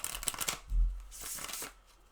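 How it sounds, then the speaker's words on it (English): Tarot cards being shuffled by hand, a soft riffling and flapping burst near the mic with a brief thump partway, alone with no talk. "I'm gonna shuffle some cards real quick"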